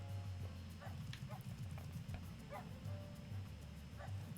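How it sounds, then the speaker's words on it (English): A dog barks repeatedly at a distance, sharp yips spaced through a steady low hum of background noise. "It's like I hear a dog barking."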